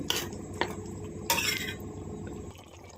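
Drumstick, tomato and carrot curry is stirred in a pot, with a few bright metallic clinks of the spoon against the rim and a low bubbling simmer underneath, close by and without speech.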